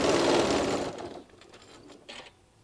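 A sewing machine stitches around the curve of a fabric oven mitt, running loud and steady for about a second, then slowing to softer, intermittent bursts of stitching with a brief pickup near the end.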